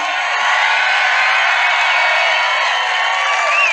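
A large political rally crowd cheers and whoops loudly and continuously, a dense wall of voices close and sustained throughout.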